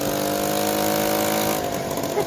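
A home-built 139cc two-stroke engine with a CVT transmission buzzes steadily while being ridden at around 30. The droning tone stays loud and even, then wavers slightly near the end.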